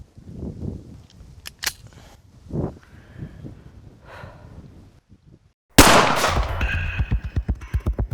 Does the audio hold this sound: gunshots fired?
yes